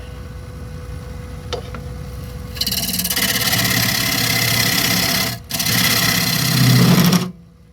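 A wood lathe turns an old blank while a scraper cuts into it. A faint hum comes first, then a loud, continuous rasping whir that briefly dips once before cutting off near the end.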